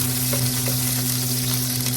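Garlic and onion frying in a pot, a dense continuous sizzle with faint stirring taps, close and even throughout, no voices.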